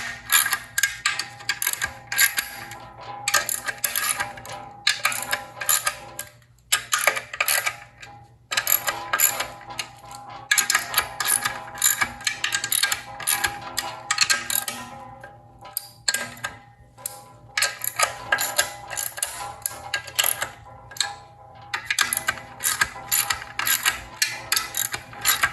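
A loose clutch block plate from a Lykins Motorsports RAM clutch kit and Quicktime bellhousing jiggles and rattles metallically for about twenty-five seconds. The clinks and ratchet-like clatter come in close, irregular bursts with a few short pauses.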